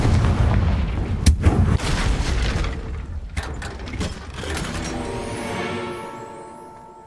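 A Confringo spell explodes in the Hogwarts Legacy video game, a loud booming blast with crackling bursts and debris that fade into a ringing, decaying tail.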